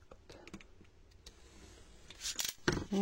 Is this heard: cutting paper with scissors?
yes